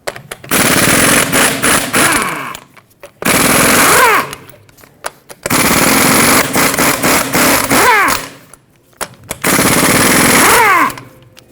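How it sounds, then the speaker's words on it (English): Impact wrench rattling off the 21mm lug nuts on a Ford F-350 rear wheel, four loud hammering bursts of a couple of seconds each with short quiet gaps between, close up. "that exposes your 8 21mm headed lug nuts, so let's take those off."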